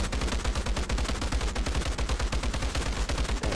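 A newly unlocked legendary gun in the video game Outriders fires in a rapid, continuous automatic burst, each shot a loud punchy thump in a steady fast rhythm with no pauses or voices.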